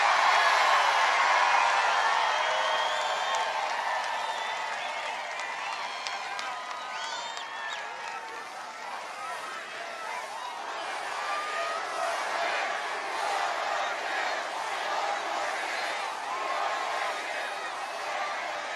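A large crowd at a presidential campaign rally in Freeland, Michigan cheers and applauds steadily for a long stretch, a broad, roaring wash of claps and shouts with no pause.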